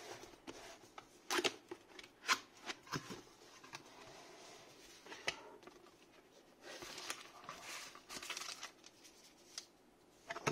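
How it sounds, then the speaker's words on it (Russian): The cardboard box of a Deepcool CPU cooler is opened: quiet crinkling, rustling and light tearing of card and packaging close by, with scattered small taps and no talking. "Начинаю открывать коробку."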